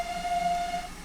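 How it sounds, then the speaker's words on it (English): A single steady train whistle in a train simulator video game, one sustained tone held for about a second, moderately loud over a faint background hum, with no talk. "that's a reused whistle"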